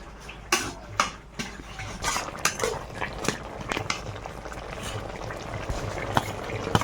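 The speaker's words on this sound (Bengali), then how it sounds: "বেগুনগুলো একটু ঘেঁটে দিই" Eggplant and thankuni leaves stirred in a cooking pot, with repeated soft scraping and clinking strokes over a bubbling, simmering background, close and moderately loud.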